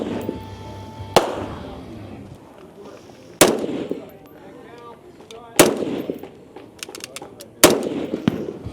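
Rifle shots at a women's elite shooting competition stage at a regional match in Arizona: four loud, sharp reports spaced about two seconds apart, each ringing briefly, with quiet talk and background noise between them.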